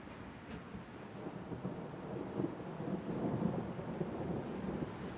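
Thunder rumbles low and continuously during a night thunderstorm, a faint, distant roll mixed with a light wash of rain and no talking.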